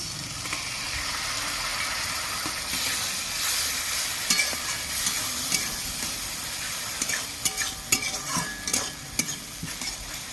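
Poppy seed paste with a little chilli powder stir-fried in oil for a crab and egg curry, a steady close sizzle with spatula scrapes and clinks growing busier toward the end, no talking.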